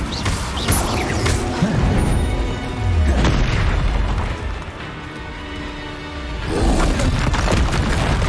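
Fiery spell blasts from the Incendio charm in Hogwarts Legacy, a booming burst that swells and fades, then repeats with a second loud whoosh near the end amid ongoing game action noise.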